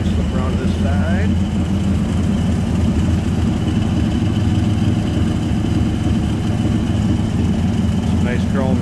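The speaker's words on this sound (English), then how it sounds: "Nice smooth running engine." A 1941 Plymouth PT125 pickup street rod engine, paired to a turbo 400 automatic, idles smoothly, a loud steady low rumble that continues without a break throughout.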